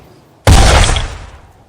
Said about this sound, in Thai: เสียงปืนที่แผดกล้อง ในตอนใกล้รุ่งนั้น